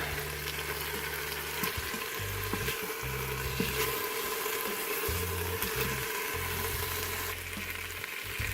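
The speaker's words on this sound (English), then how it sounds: "So about a minute per side on the saute." Chicken pieces sauteing in an Instant Pot for Jamaican jerk chicken, a constant close sizzle and crackle running steadily throughout, with a low humming drone underneath.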